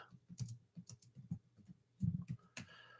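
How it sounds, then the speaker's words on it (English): Keys clack on a computer keyboard in short uneven bursts of close, crisp taps with a quick flurry midway, heard alone without speech. "I'm going to type"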